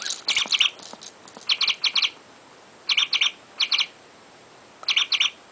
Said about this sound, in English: Chickadee is chirping a lot.